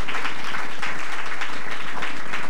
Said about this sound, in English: Can we give all of our guests a hand clap of appreciation tonight?